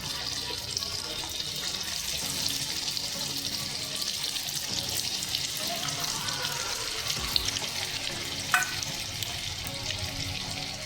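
Soya chunk cutlets frying in a pan in a home kitchen, a steady close hiss of oil with a few faint clinks, running continuously with no talk.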